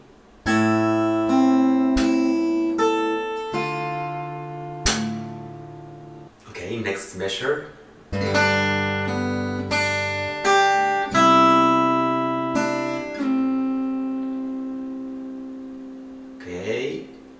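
Fingerstyle acoustic guitar plays the melody of a song in clear plucked notes and chords, stopping and starting in short phrases while someone talks between and over them.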